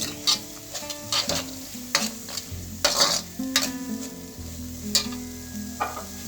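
Masala paste being sautéed and stirred in a pan for a Maharashtrian Bhogi bhaji, with a steady sizzle and repeated scraping stir strokes about every second, close and clear over faint background music.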